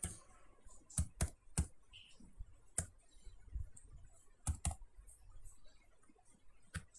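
Keys clacking on a computer keyboard during setup of a Django project: a few sharp, separated clicks, closely spaced, with pauses between, close and fairly quiet, no talk.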